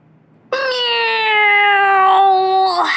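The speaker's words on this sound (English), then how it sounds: "Meow." After a short silence, a single long, loud meow rings out close by, held steady for over two seconds before trailing off with a wavering end.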